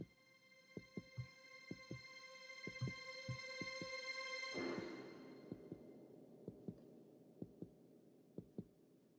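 In the horror video game Cardiophobia 2, a steady thumping heartbeat pulses at an even rhythm over a sustained tonal hum that swells and then fades, the beats clear and close.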